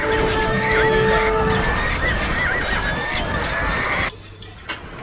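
Horses from the Age of Empires II video game whinny loudly in a tight, rising call over game noise, fading out abruptly near the end.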